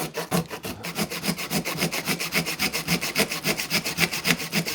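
Hand saw cutting wood, fast regular back-and-forth rasping strokes, close and fairly loud with no talk.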